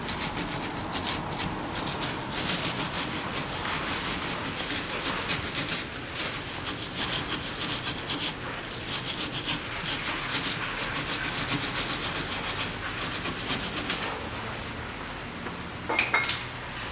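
Steady scrubbing strokes scrape caked dirt off the rear suspension camber bolts of a 2008 Mitsubishi Pajero, a rapid, close rasping rub continuing throughout with a brief sharper knock near the end.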